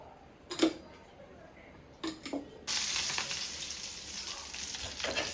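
Prawns frying in a pan over a village wood-fired stove in Kokan: after a couple of brief clinks, a loud, steady broadband sizzle starts abruptly and continues close up to the end.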